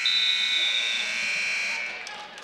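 A Big Ten heavyweight wrestling match's end-of-period buzzer blares as one long, steady electronic tone, loud and sustained for about two seconds before cutting off, leaving quiet arena ambience.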